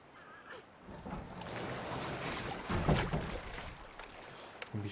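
A small piece of driftwood drifts across open water in Little Nightmares 2, with soft sloshing and lapping waves, breezy wind and gentle creaks swelling and easing around it.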